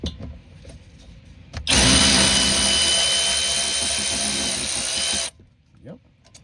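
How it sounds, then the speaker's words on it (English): An Overhaul 3/8 inch ratchet, a powered tool rated at 100 foot-pounds, whirs loudly for about four seconds while removing brake caliper bolts, starting and stopping abruptly amid faint workshop noise. "So I'm using my trusty Overhaul 3/8 inch ratchet."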